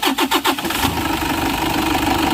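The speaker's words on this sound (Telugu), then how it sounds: "మళ్ళీ మీకోసం ఒకసారి ఇంజన్ స్టార్ట్ చేసి చూపిస్తున్నా చూడండి." A 2012/2013 Toyota Innova 2.5 diesel cranks with a few quick rhythmic starter pulses, catches on the first try and settles into a loud, steady idle close by.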